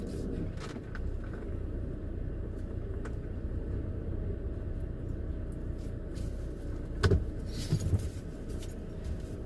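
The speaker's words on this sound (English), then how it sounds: "You can actually hear the traffic from Interstate 70" Distant traffic from Interstate 70 rumbles steadily near a BLM campground, a faint continuous road drone with a few passing vehicle swells and small nearby clicks.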